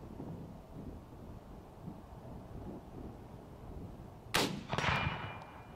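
A single Mosin rifle shot is fired at a target 137 metres away on a windy ranch. A sharp, loud crack with a rolling echo follows several seconds of gusty wind noise.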